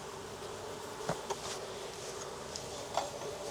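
Honeybees in an opened hive frame check in a Jacksonville, Florida outyard: a faint, thin insect hum with a few soft clicks and taps, quiet and distant.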